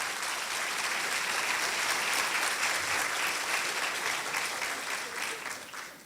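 A seated audience at a Brazilian lecture and awards presentation gives sustained applause, dense and even throughout before thinning slightly at the end.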